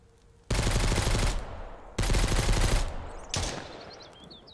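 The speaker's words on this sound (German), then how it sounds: "Was? Ein Schuss?" Automatic gunfire in the survival video game Mist Survival, three loud sustained bursts of rapid shots with short gaps between them, the last one trailing off.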